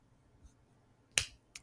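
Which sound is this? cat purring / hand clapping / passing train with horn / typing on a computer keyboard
hand clapping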